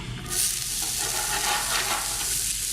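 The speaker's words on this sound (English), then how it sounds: "Again, just sauteing a little bit of olive oil." Small diced onions sautéing in olive oil in a pan for a pasta dish with salmon, a loud, close, continuous sizzle that swells after a short quieter start and stays steady, with no voices.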